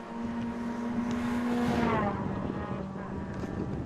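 Ford Fiesta Junior race cars at Snetterton's Bentley Straight: a steady engine drone rises through the gears, then a car passes and its pitch sweeps downward as it recedes, with crowd and track ambience around.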